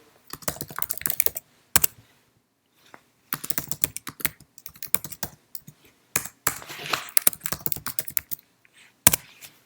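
Bursts of computer keyboard typing, including presses of the tab key, come in quick clustered clicks separated by short pauses, close and clear with no talking.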